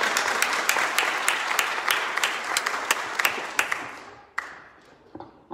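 Applause from a congregation, a steady wash of many hands with a few sharper claps standing out, thinning and dying away near the end.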